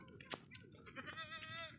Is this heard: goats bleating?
yes